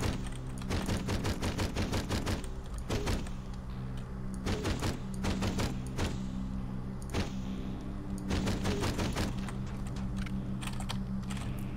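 Frag fire weapon in the shooter Hedon blasts in rapid, dense bursts, clusters of sharp cracks repeating through the stretch with brief gaps, loud and close over constant game background.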